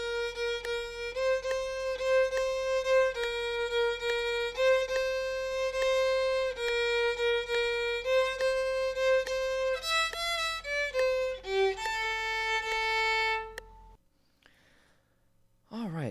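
Solo violin playing a passage from the Irish tune Ships of Ireland, clear sustained bowed notes in a steady melodic line before stopping abruptly near the end.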